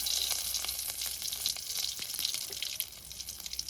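Mustard seeds and curry leaves fry in hot oil with a steady, close crackling sizzle and scattered pops, and no voices are heard.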